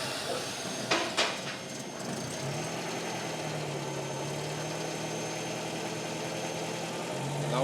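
A 1924 Prevost bus with a rear-mounted engine cranks with a couple of sharp knocks, then fires and settles into a steady, rumbling mid-pitched idle that holds close and loud.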